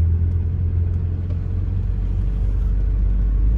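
A car rolls around a turnabout with a loud, close, steady low engine rumble and road drone inside the cabin, holding even throughout without voices.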